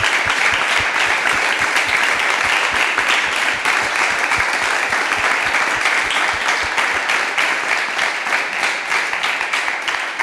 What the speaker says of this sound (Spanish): que deis un fuerte aplauso a todos los ponentes que están aquí